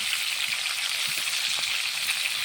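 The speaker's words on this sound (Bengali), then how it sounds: "মাছগুলো এক সাইড ভাজা হয়ে গেছে, ওইগুলো আমি এখন উল্টে দিই।" Fresh fish fry in hot oil in a pan with a continuous hissing sizzle and faint crackles, close and even, with no voices.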